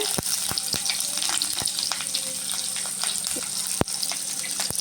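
Onion and garlic frying in a pan for a ridge gourd dish, a steady close hissing sizzle with scattered sharp crackles and a few distinct knocks of a utensil.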